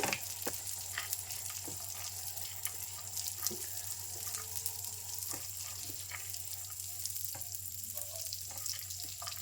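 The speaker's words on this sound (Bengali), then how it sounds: "ভালোভাবে ভেজে নিচ্ছি ড্রাই ফ্রুটগুলো একসাথে" Dry fruits frying together in ghee for laddoos, a continuous close sizzle and bubbling with a few scattered clicks of a spoon stirring in the pan.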